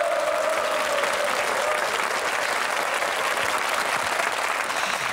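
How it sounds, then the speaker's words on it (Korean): Steady, dense applause from a studio audience on a Korean military-themed TV show, sustained and loud throughout with no gaps. "충장군대 장사병 여러분에게 큰 박수를 한번 보내주시기 바랍니다."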